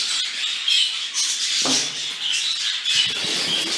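Dense high-pitched bird calls and chirps fill an aviary flight continuously, with a few louder squawks and some rustling close by.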